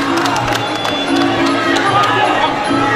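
Cheers and shouts from a Muay Thai fighter's corner rise over steady arena crowd noise during a John Wayne Parr bout, with a commentator's voice running underneath.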